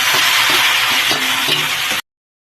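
Raw plantain pieces sizzling loudly in a frying pan, a dense close hiss with a few stirring clinks, ending abruptly after about two seconds.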